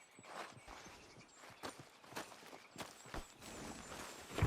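Horse hooves walking in Red Dead Redemption 2, a close series of irregular clip-clop footfalls on the ground, moderately loud with no talk over them.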